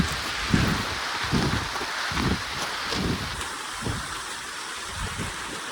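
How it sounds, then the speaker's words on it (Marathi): Rain falls on a farm field during tomato planting, a dense steady patter with rhythmic rustling and squelching steps through mud nearby. "पाऊस बघा कसं वाजतंय"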